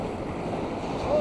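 Waves break and wash on a sandy beach at Karasu during bluefish fishing, a continuous rushing surf with wind buffeting the microphone, steady and moderately loud, swelling slightly near the end.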